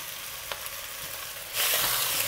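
Pork belly with daikon radish and carrots stir-frying in a pot for Japanese tonjiru, a steady close sizzle that swells louder partway through as the pieces are mixed.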